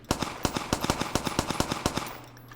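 A firearm test in Survive the Nights: a rapid string of about fifteen evenly spaced gunshots, crisp and close, then a quiet tail after the shooting stops.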